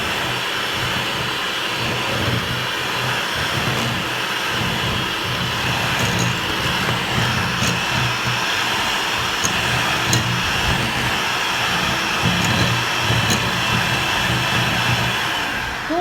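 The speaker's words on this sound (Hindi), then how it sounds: "मैं वेस्ट पॉइंट का बीटर यूज़ कर रही हूँ, आप कोई भी बीटर यूज़ कर सकते हैं, हैंड बीटर।" A Westpoint electric hand beater whirs steadily through cake batter for a marble cake, a constant close motor drone with no pauses and no voices.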